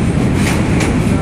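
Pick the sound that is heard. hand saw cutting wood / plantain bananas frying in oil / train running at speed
train running at speed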